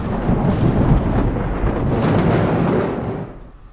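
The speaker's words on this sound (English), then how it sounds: "Hurricanes rage across the land, rainfall is torrential, and it never stops." A fierce alien storm with hurricane winds and torrential, unending rain, heard as a loud, dense, steady roar of rain and rumbling wind that holds for about three seconds and then begins to fade.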